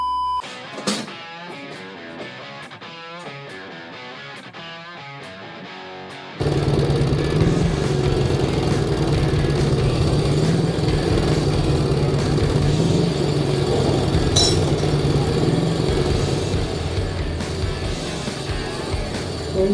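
A classic BSA motorcycle racing up Prescott Hill, a loud sustained engine roar after several seconds of quieter sparse sounds, continuing steadily to the end with no talk.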